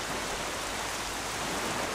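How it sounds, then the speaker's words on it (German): Heavy rain falls in the video game The Legend of Zelda: The Wind Waker. It makes a steady, dense hiss of downpour that fills the whole moment, with no voices. "Wieso regnet es jetzt so stark?"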